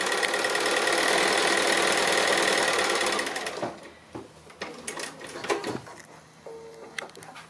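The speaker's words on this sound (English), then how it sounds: "we just come along and stitch in the ditch underneath that seam there where the little bit of binding is sitting" A sewing machine runs steadily for about three seconds, stitching in the ditch along a binding seam on a small triangle pin cushion, then stops and gives way to light handling clicks and rustles.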